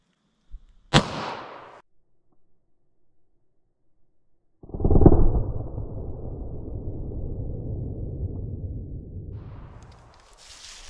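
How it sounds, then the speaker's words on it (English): A Buffalo Bore 9mm 147 grain +P+ round is fired into ballistics gel, giving one sharp, loud, close report with a brief ringing decay. Silence follows, then a few seconds of low rumbling noise. "let's hit our ballistics gel with the 9mm 147 grain plus P plus"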